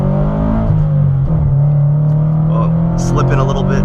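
Tuned Subaru BRZ fitted with a JDL header and catless front pipe, accelerating with a deep, loud exhaust rumble that climbs steadily in pitch from inside the car, with someone talking over it.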